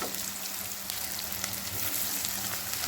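Ridge gourd curry frying in a pan over a medium flame, giving a steady, close hiss and sizzle with faint stirring ticks and no talk.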